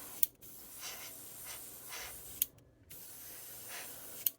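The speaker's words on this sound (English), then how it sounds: "This is one dirty, dirty airbrush." A dirty airbrush sprays paint onto a plastic model kit in soft, faint hissing bursts broken by short gaps, with a few sharp clicks between passes.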